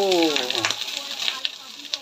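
Pork and seasonings sizzle and fry in rendered pork fat in a pan, a steady crackling hiss with small pops throughout, close and fairly loud; a brief voice is heard at the start.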